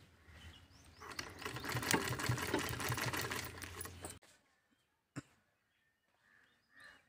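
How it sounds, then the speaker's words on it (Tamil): Sewing machine stitching a fabric drawstring wrist bag: a fast, even mechanical whirring run of about three seconds that stops abruptly, followed by a single click and near silence. "இது மேலே வந்து படிமண் தையல் வந்து போட்டு விட்டுடுங்க."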